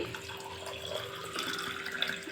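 Hot water poured into a glass holding honey, a steady close pour with a continuous liquid trickle and splash that brightens slightly toward the end.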